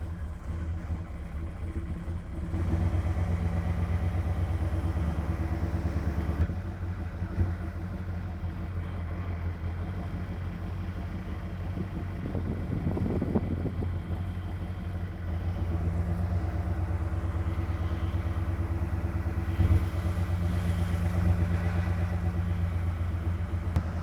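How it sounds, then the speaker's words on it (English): A car engine runs steadily at idle with a low, constant drone while its power steering pump strains, a faint rising whine swelling briefly midway; the whole sound is moderately close and steady. "Sounds like maybe the power steering pump might be struggling a little"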